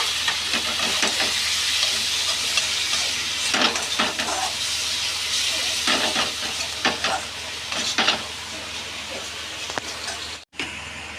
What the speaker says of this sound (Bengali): এবার আরেকবার মশলাটাকে ভালো করে নাড়া হচ্ছে। একটু জল অ্যাড করা হলো।